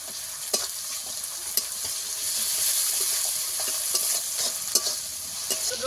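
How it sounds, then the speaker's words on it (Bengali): Garlic paste and onion fry in a pan with a steady bright sizzle, punctuated by sharp scraping stirs at irregular intervals, heard up close with no talking. "রসুন আর পেঁয়াজ ভালো করে আমি ভেজে নেব।"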